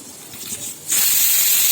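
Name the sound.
pressure cooker whistling while cooking green gram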